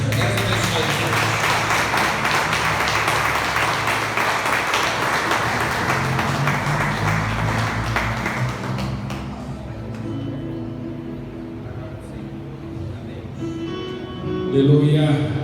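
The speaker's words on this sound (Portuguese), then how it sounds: "Vamos aplaudir a Senhor." Church congregation applauding during a worship service, a broad wash of clapping mixed with organ or keyboard chords and voices that fades after about nine seconds.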